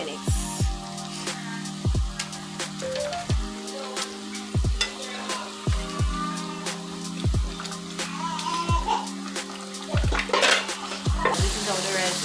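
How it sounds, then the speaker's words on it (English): Slices of fish cook in a pot of brown stew gravy, with repeated clinks and knocks of a utensil against the pot over a low steady kitchen hum. "I'm adding my fish to my gravy, and I'm going to let this cook for about 2 minutes."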